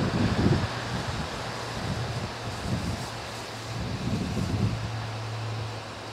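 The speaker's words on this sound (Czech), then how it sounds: "Dneska bohužel je větrno." Wind gusts over a hilltop lookout above Lake Laka near Prášily, with a steady rushing roar and buffeting against the microphone that swells and eases in waves, with no voices.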